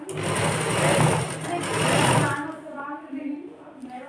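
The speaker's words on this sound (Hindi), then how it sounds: "इस तरह से सिलाई लगा कर इसे निकाल लेंगे" A sewing machine runs close by as it stitches the collar of a dress for a seven-year-old girl, humming steadily for about two seconds before stopping while a voice talks.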